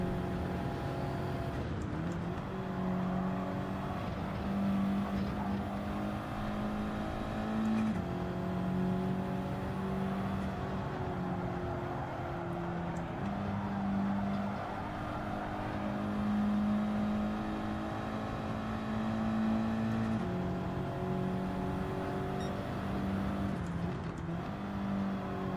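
Race car engine from the video game Gran Turismo 7, droning steadily with rising and falling revs and repeated gear shifts, loud and continuous throughout with no talk.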